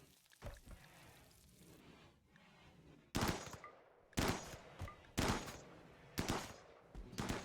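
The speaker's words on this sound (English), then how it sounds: "Hunting with an assault rifle is a little bit extreme" Assault rifle shots fired while hunting animals in the colony sim RimWorld: four or five sharp, evenly spaced single cracks, fairly close, after a quieter start with faint ambience and no talking.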